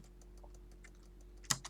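Computer keyboard typing, a quiet run of scattered, irregular key clicks close by, ending in one louder clack and a few final taps, with no talk.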